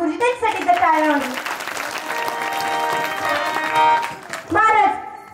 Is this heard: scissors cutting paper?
no